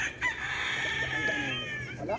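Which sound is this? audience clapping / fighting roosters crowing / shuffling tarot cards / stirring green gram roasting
fighting roosters crowing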